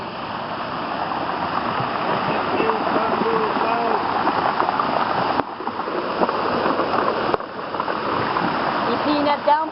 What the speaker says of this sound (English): You seen that downpour?